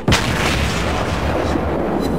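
A single heavy naval gun blast from a ship in World of Warships, a sharp boom at the start that rolls into a long, loud rumbling decay.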